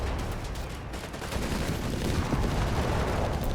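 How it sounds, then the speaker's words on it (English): Sustained battlefield gunfire from the World War II strategy game Company of Heroes 3, with a Crusader tank engaging an isolated Panzer Grenadier squad: a dense, continuous rattle of distant small-arms and machine-gun fire filling the whole stretch at steady loudness. "Shots fired, missed."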